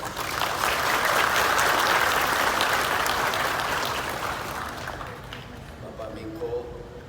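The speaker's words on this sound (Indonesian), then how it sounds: "Tepuk tangan untuk beliau." Audience applause for the President of Indonesia at an agricultural extension and village officers' gathering, a loud sustained clapping that swells early then gradually thins and fades out near the end.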